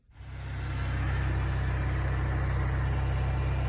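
A small generator engine starts up and settles into a loud, steady, low-pitched running drone, close by and alone.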